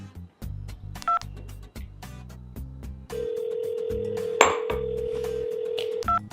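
A phone number is dialed on a keypad, with a few short beeping tones and then a long steady tone running for several seconds, all over low background music.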